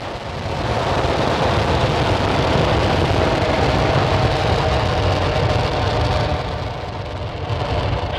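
A SpaceX Falcon 9 rocket's engines roar during launch ascent while carrying Starlink satellites, a dense, loud, continuous rumble that holds steady throughout and eases slightly near the end.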